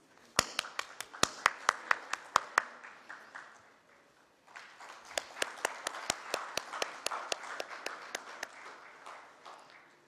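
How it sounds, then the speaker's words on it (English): Audience applause at the SAFF Championship 2013 official draw ceremony: two spells of sharp, distinct hand claps, the first fading out, then a short pause before a second, fuller round of clapping builds and tapers off, heard alone without talk. "Ladies and gentlemen, could we have an applause,"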